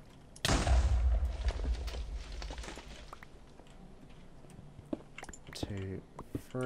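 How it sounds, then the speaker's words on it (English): A Minecraft explosion bursts loudly near the start, a deep boom with a crackling tail that fades over several seconds, followed by scattered clicks and game sounds while a person talks over it. "Explosion incoming."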